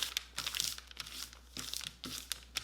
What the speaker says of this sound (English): You can crumple up the paper like this